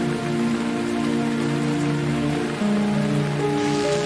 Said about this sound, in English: The rain must be interfering with the terminal.